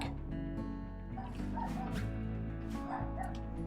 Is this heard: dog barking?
yes